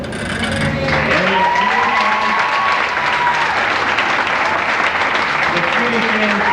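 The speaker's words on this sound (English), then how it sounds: "Big round of applause." A crowd applauds steadily for several seconds at the 1995 Queen of Lakes pageant in North Webster as the new Cutie Queen and King are introduced, with a voice over the clapping.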